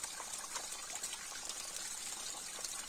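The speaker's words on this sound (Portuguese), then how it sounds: "Olha, tá vindo água mais forte ali." Strong water gushing out of a pipe in the forest, a steady close rushing and splashing flow with no talk.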